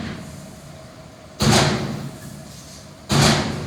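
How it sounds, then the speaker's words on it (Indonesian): Two loud metallic knocks from the rear door of a dump truck unloading at a construction site, spaced about a second and a half apart, each a sharp broadband bang over a low steady engine hum. "Itu suara pintu kalau gitu."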